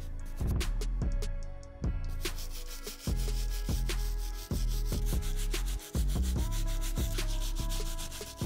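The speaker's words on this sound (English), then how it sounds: "let's take this stiff bristle brush and get onto the midsole" A stiff bristle brush scrubs the midsole of a Balenciaga Triple S sneaker in quick, rhythmic strokes about twice a second, close and steady, with sustained tonal sounds running underneath.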